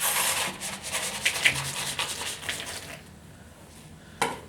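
Peanut butter and popcorn being stirred together with sugar in a bowl, a steady rubbing, scraping churn up close that eases off partway through, ending with one sharp knock.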